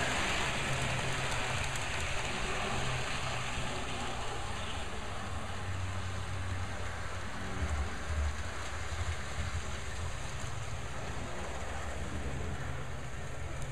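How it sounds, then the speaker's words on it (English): A model train runs at higher speed around a layout, giving a continuous rolling rattle and hum that stays steady and fairly faint throughout. "but I just turned the speed on the train up."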